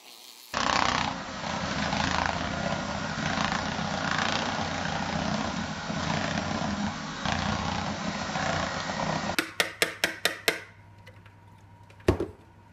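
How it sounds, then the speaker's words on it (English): An electric beater whirs loudly and continuously through thick protein bread batter for several seconds, then stops, followed by a few sharp taps and clatter of the beaters against the bowl. "I'm going to go the lazy man's option and use an electric beater."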